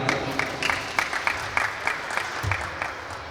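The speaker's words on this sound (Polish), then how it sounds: "Wielkie brawa i gratulacje" Applause at a school football tournament for grades 1–3 as the winning team's coach is called up, with a steady run of separate claps at moderate level and a low murmur underneath.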